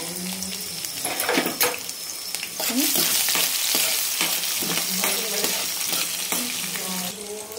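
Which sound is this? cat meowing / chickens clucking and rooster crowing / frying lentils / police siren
frying lentils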